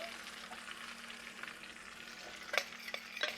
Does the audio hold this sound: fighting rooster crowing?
no